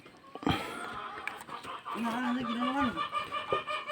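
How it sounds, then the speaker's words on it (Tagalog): Chickens cluck and squawk close by, with a drawn-out call in the middle, amid outdoor background noise. "Hindi natin makuha yung manok."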